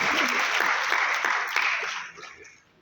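Loud, dense audience applause at a Hindi-language poetry gathering in Mumbai, a steady wash of many clapping hands that thins and fades away over the last second.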